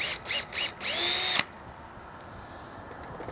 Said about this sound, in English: And go ahead and pre-drill.